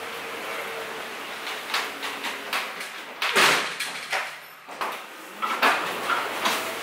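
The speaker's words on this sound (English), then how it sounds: "Opening up doors by just walking in the middle" Automatic sliding doors open as someone walks through the middle of the entrance, giving a brief whooshing rush amid a busy, noisy indoor space with scattered clatter.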